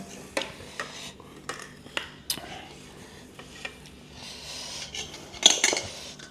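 Pork laab spooned onto a plate, a series of separate clinks and scrapes of a spoon on a dish, close and fairly quiet, with a busier clatter near the end.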